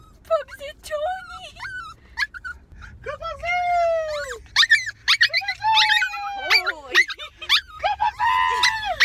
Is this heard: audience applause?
no